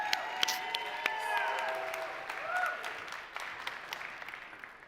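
A pitch competition audience applauds and cheers for the next team, a moderate wash of clapping with scattered whoops and a whistle, fading gradually over several seconds.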